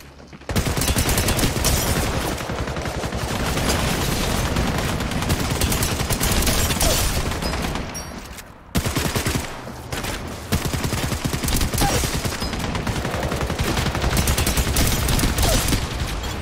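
Alternator gun fire in the Apex Legends Mobile game, a loud, dense run of rapid automatic bursts that carries almost nonstop, with a short break in the middle before firing picks up again.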